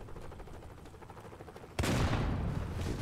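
Gunfire erupts in the mobile shooter Modern Combat 5: after a stretch of quieter battle ambience, a sudden loud burst of shots starts and continues as dense, sustained firing close by.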